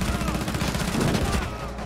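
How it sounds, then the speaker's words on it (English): Dense, loud gunfire from a Rainbow Six Siege match rattles in rapid overlapping bursts for two seconds, with voices faintly mixed in. "I shot him, Eli."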